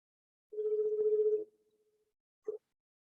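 A telephone rings for an incoming call, one steady electronic tone lasting about a second, then a short second blip after a pause, clear and isolated against silence.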